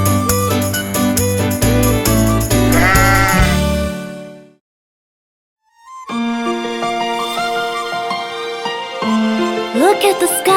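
Sheep bleating loudly and repeatedly over bright children's nursery-rhyme music, a sudden pause of silence in the middle, then more bleats and jingling music resuming.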